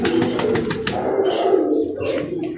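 Pigeons of a rare, decades-old breed cooing on a rooftop, a close, loud throaty coo running throughout, with quick chirping notes at the start and faint higher calls later.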